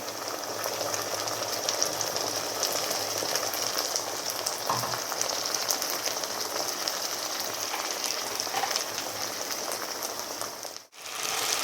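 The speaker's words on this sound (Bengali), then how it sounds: "মশলাটা ভাজা হচ্ছে" Spice paste sizzles steadily in a pan with onion, garlic, cardamom and cinnamon already browned in oil, for a spicy liver chachari; a dense, even crackle runs close and loud throughout, broken by a brief drop near the end.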